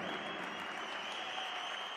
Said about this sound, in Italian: Più forte questi applausi